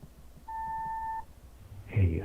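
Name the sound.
answering machine beep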